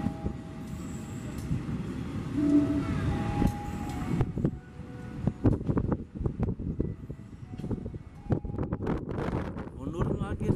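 A commuter train rolls through an Indonesian railway station, a low steady rumble with clattering wheel impacts that grows rougher midway, under ongoing talk.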